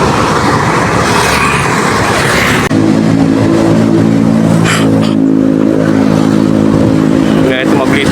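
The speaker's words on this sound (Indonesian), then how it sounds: "Nah, itu mobil listrik FUV ya." An electric FUV car passes on a road in Babelan, with a steady loud roadway rush overlaid by a humming tonal whine during the second half, amid constant traffic noise.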